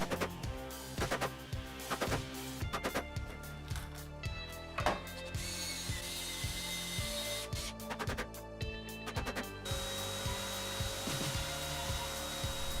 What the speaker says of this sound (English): I decided to rough cut the handle on the bandsaw